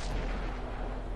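Tank cannon fire from a Jagdtiger with an 8.8 cm Pak 43 gun in World of Tanks on Xbox: a loud, dense booming blast that fills the whole moment with heavy rumble and no talk.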